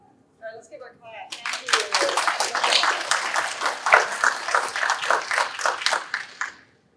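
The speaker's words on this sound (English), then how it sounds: "All right, let's give our clap." An audience at a patchwork symposium breaks into clapping after a brief murmur, a sustained round of many hands that builds, holds steady, then tapers off.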